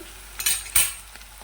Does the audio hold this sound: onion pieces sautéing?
yes